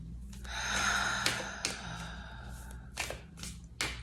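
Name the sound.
breath being exhaled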